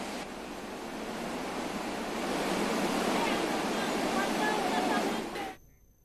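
The flooded Khoh river at Kotdwar surges after heavy rain, a dense, steady roar of rushing water that swells louder midway and then cuts off abruptly near the end.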